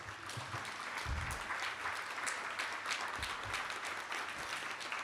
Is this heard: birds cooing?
no